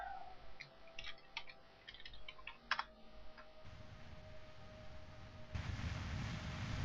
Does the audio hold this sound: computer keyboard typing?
yes